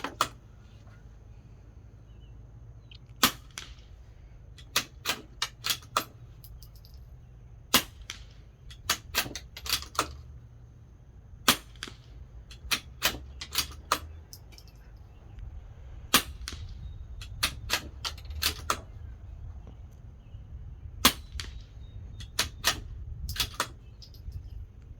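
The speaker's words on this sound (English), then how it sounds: "We're going to shoot these 5, and then I'm going to purposely dry fire the gun just for comparison's sake." A CZ 457 Pro Varmint .22 rifle fires CCI Quiet rounds, heard as sharp, very quiet snaps over a low outdoor rumble, along with many small clicks of bolt cycling, spaced irregularly through the stretch.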